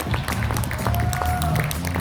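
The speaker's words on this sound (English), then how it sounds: "Give it up, round of applause, you guys." Audience applause at a fitness competition in New England, a dense, continuous patter of clapping from a crowd, with a low musical hum and faint voices in the background.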